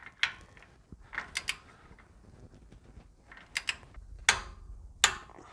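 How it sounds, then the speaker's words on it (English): A ratchet with a 24mm socket tightens a swivel hub bolt on a Toyota Landcruiser 80 or 105 Series, giving scattered sharp clicks and clacks at close range in a quiet workshop, with no talk. "we're just going to torque that one up with a 24mm socket"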